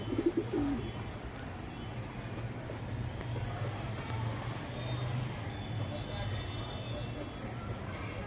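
A Lalchinni male pigeon coos softly and repeatedly, low throaty calls heard under someone talking, with steady background noise around them.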